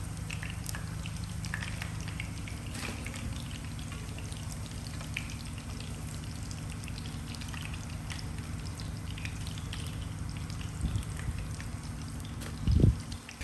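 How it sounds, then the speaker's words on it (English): Fish cakes fry steadily in hot oil, a continuous close crackle and sizzle that runs throughout, with a brief louder bump near the end and no talking. "Watching them puff up and turn beautifully golden in the hot oil"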